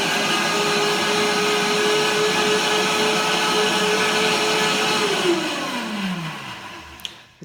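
BioChef Living Food Blender making a smoothie: a loud, steady motor whine running evenly for several seconds, then winding down as the motor stops.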